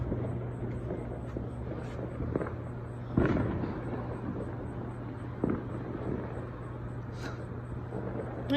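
Fireworks bursting at night, a few sharp booms standing out over a steady low background rumble, moderately distant and fairly faint, with no talking.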